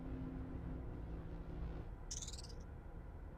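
A single short, bright chirp sound effect from the puzzle game Myst rises over a continuous low rumbling hum, arriving alone partway through and fading quickly.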